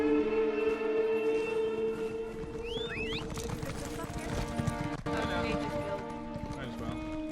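Horse hooves clip-clopping in a video game, a steady rhythmic trotting under continuous game music and ambience, with a brief whinny-like chirp partway through.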